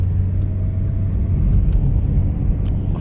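A small car drives along a road, its engine and tyre rumble a steady, close, continuous low drone from start to finish with no talking.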